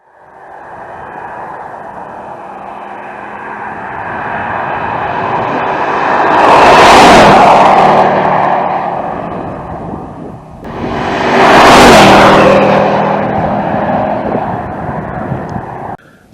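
A cheap Mercedes V8 engine idles and then revs twice, each rev swelling loudly and falling back to a rumbling idle, close by with no one talking.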